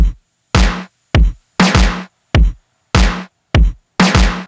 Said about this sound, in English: I have a very simple four on the floor drum snare pattern with a little snare